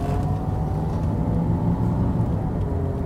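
A 1986 Rolls-Royce Silver Spur with an automatic gearbox cruises along, its engine giving a steady, smooth low hum and road rumble with no audible jolt or break at the gear change.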